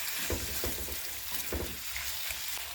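Steady sizzling of onion frying in hot oil in a pan, with a few soft stirring knocks, close and continuous throughout.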